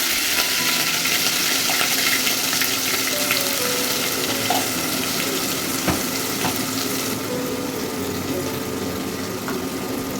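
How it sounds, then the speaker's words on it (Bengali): Cumin seeds and onion paste fry in hot mustard oil in a steady, loud, close sizzle with faint clinks of stirring and no talk. "তো সরিষার তেল দিয়ে নিলাম, একটু জিরে ফোড়ন দিলাম, পেঁয়াজ বাটা পরিমাণ মতো"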